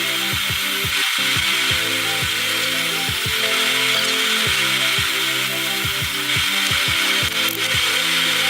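A power tool cuts through sheet metal in a loud, continuous grinding rasp with steady rhythmic strokes, close up and alone.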